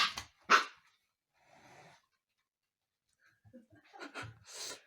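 Husky puppy barking from behind a sofa indoors: a couple of sharp yaps near the start, then quieter sounds and a fresh burst of several barks near the end, with nobody talking.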